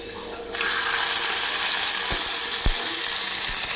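Tomato and coriander paste hits a hot frying pan with an abrupt loud sizzle that continues as a steady hiss, with a few low knocks from a utensil.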